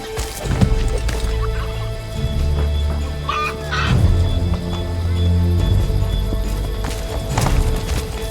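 Horse hooves clip-clopping in the video game Assassin's Creed 3, a loud, close series of hoof strikes with a horse whinny and chicken clucks in the game's ambience.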